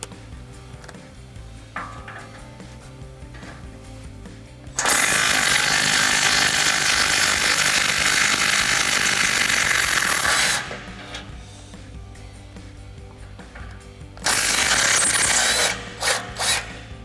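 Factory 14 mm exhaust bolts come off a 2009-2021 Toyota Tundra under a loud, sustained burst from a power impact tool lasting several seconds, then a second burst and short stuttering pulses, with quieter mechanical clicks between.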